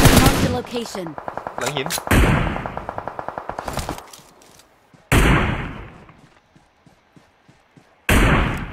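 Gunfire in the mobile shooter game PUBG Mobile, played on an emulator: rapid automatic bursts and loud single cracks with sharp echoing tails, close and punchy, while players talk excitedly over the shooting.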